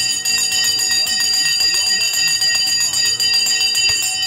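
A stock market opening bell rings continuously at the start of the trading session. The bright, sustained metallic ringing is loud and steady and holds throughout, with faint talk beneath it.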